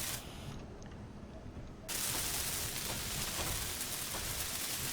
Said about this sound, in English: I just get in here and weld this stuff up